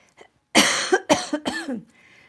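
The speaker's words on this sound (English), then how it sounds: "I'm still getting over the crud, so I still have a cough." A few harsh coughs in quick succession, close and loud, followed by a brief throaty rasp.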